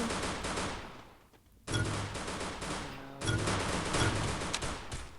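Rapid bursts of automatic gunfire in the Free Fire battle game, loud and close, broken by a short lull before the firing resumes in dense rattling volleys.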